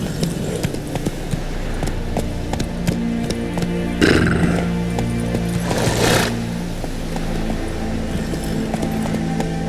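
Roach, the horse in The Witcher 3, clip-clops steadily at close range over a continuous game ambience, with a brief louder stir partway through that could be a snort or neigh.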